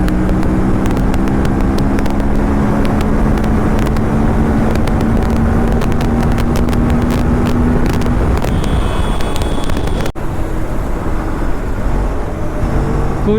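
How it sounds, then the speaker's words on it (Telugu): Kawasaki ZX-6R and Aprilia RS457 sport motorcycles speeding along a highway near 200 km/h, a steady loud engine drone with rising pitch and heavy wind rush throughout, no talking. "ఇంకా ఆ బైక్లో 200 స్పీడ్ టచ్ చేయడం కూడా ఇదే ఫస్ట్ టైం అంట."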